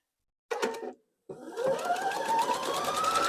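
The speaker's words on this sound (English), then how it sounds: "And then we're just going to sew." A sewing machine stitches fabric for a quilted table runner: a short whirring burst, a brief pause, then a longer steady run of fast motor hum and needle clatter, close and clear with no voices.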